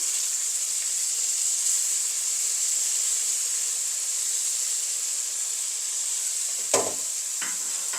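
Prawns and brinjal fry in a hot pan, giving a steady, close hiss of sizzling oil throughout, with a couple of brief scraping stirs near the end.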